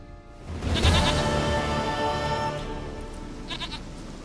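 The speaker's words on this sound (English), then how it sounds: "Goat of mine, dearest, sweetest goat." Goat bleating in The Witcher 3, a loud, wavering, drawn-out bleat that swells near the start and trails off, followed by a shorter, fainter bleat toward the end.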